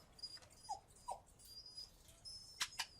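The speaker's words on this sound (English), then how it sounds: "I can hear a dog." Dog whimpering in a Sherlock Holmes video game set in a pet shop: a few soft, high whines and yelps, faint and scattered over quiet background, with a couple of sharper squeaks near the end.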